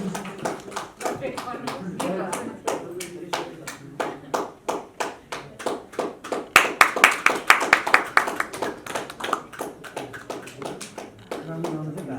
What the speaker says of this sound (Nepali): सबै साथीहरूले सबै महानुभावहरूले ताली बजाइदिनु होला